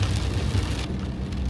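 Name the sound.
heavy rain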